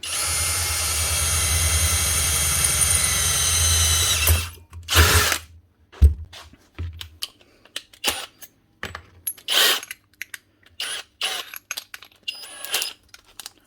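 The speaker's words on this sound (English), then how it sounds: "Quick wee countersink. Make them all the same." A power drill countersinks holes in short bursts after a long steady whir, followed by quick whines, clicks and bits of handling noise from the workpiece.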